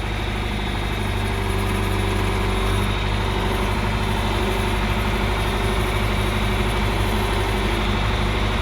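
A John Deere 2510 tractor engine runs steadily in third gear with the throttle bumped up slightly, giving a continuous loud, close rumbling drone with no breaks.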